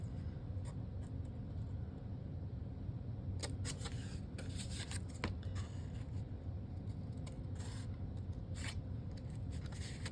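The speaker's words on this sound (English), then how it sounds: "I'm just going to cut straight on this score mark." Scissors cut straight along a score mark in cardstock, a run of crisp snipping and paper rasps close by over a steady low background hum.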